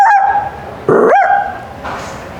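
Someone vocally mimics a small Pomeranian dog at a youth festival mimicry act, giving a few short, sharp yapping barks, close and fairly loud, with no other talking.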